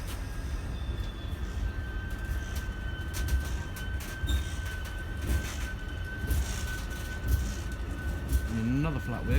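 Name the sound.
ballast train passing with a flat wheel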